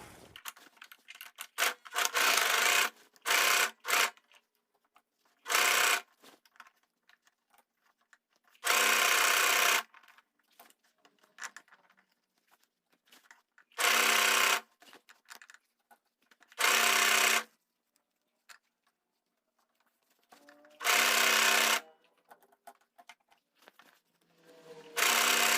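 A sewing machine stitches the side seam of a straight skirt in short, loud, whirring bursts of a second or two, separated by quiet pauses with faint fabric handling.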